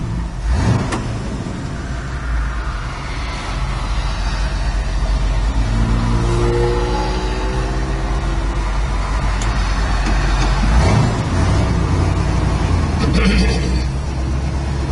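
A 1968 Ford Bronco with a three-speed manual transmission idles and revs up, its engine note rising and falling over a steady rumble, close and fairly loud with occasional clunks and a voice nearby.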